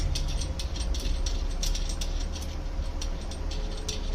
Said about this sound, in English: let's unscrew the bolt and keeping the threaded side towards yourself